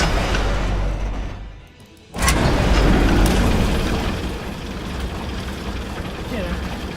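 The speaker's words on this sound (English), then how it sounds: "Kind of reminds me of the elevators in World of Warcraft." A mechanical elevator in the Shroud of the Avatar fantasy MMORPG rumbles and grinds steadily, with a heavy low clunk as it starts moving after a brief lull, then keeps running loud and close.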